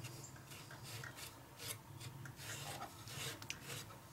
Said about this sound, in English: And again, light sanding it with steel wool.